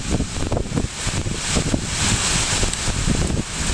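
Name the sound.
wind blowing during a rainstorm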